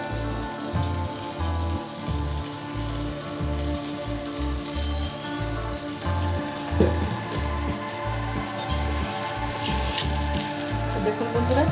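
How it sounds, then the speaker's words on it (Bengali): Khasla bora fritters frying in hot oil, a steady crackling sizzle close by, layered over a loud rhythmic low pulsing hum from background music or machinery. "আমি এইভাবে সব কটা ভেজে নেব"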